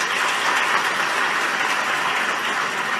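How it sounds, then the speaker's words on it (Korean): Steady, dense applause from an audience at a 2017 youth council session, continuous and fairly loud throughout with no voices on top. "다시 한번 큰 박수 부탁드립니다."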